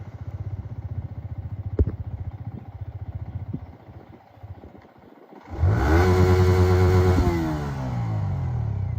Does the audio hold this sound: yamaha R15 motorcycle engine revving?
yes